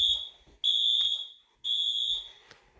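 A fire alarm sounds during a system test in three loud, steady high-pitched bursts, each lasting about a second, separated by brief pauses and ending with a faint click.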